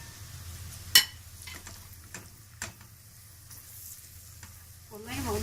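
Turmeric, cumin, thyme, black pepper, paprika and salt fry in hot oil for a keto cauliflower dish, giving a steady low sizzle with a sharp crackle near the start and scattered soft ticks and stirring taps, no voices.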